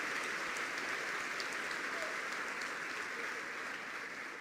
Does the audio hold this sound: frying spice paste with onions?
no